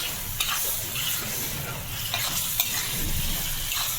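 Milk dish being tempered in a hot pan, a continuous close sizzle and bubbling fry with a few sharp spatula clicks against the pan, no talking.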